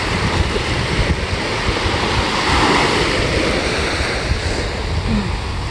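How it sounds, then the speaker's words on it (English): Ocean waves wash continuously onto the beach at Ocean View Beach in Norfolk, Virginia, a loud, steady broadband roar of surf mixed with wind buffeting the microphone, with no voices. "I love the sound of ocean waves."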